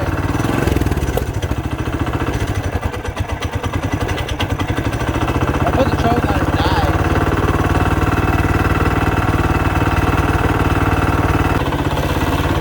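A budget Baja mini bike engine with the choke on and 91 octane fuel runs loudly up close with a rapid, rough, popping idle that holds steady throughout, the small single-cylinder motor sputtering slightly as it loads up.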